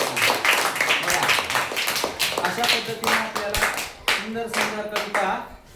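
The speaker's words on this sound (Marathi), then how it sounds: "टाळ्या वाजवा सगळ्यांनी" A school class claps for a student's recited poem: a burst of many hands clapping in fast, uneven rhythm, loud and close, with a teacher speaking over it.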